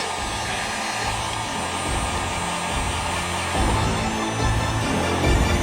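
Heat gun blowing steadily while warming graphics vinyl on a BMW K 1600 B motorcycle, a loud continuous whooshing hum with small shifts in pitch as it moves.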